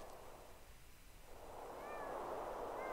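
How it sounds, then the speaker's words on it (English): Faint meowing from a cat in Thirty Flights of Loving, a couple of soft thin mews rising out of quiet room ambience toward the end. "I'm going to go back down and talk to the kitties."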